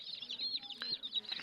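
Chicks of the Tiger chicken breed chirp and peep in quick, high, overlapping calls, close by and fairly soft, with no talking.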